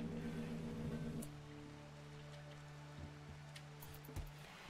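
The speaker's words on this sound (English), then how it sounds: "we are stuck in a nasty rainy season in this area, aren't we?" Steady rain falling during a rainy season in the video game RimWorld, a continuous soft hiss over low droning game ambience, with the level dipping slightly after the first second.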